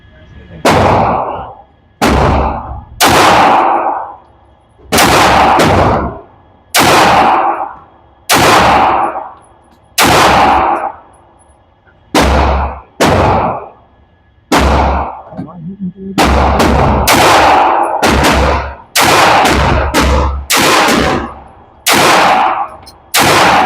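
A custom RIA Pro Match pistol fires at a shooting range, about twenty loud, sharp shots that come singly and then in quicker strings, with brief echoing tails between them.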